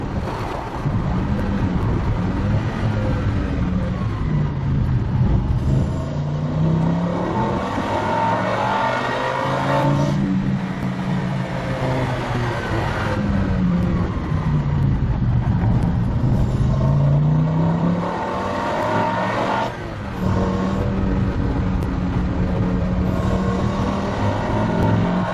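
A car engine revs steadily throughout a drive, its pitch rising and falling in repeated sweeps as the vehicle accelerates and eases off, loud and close, with wind rush over the microphone and no talking.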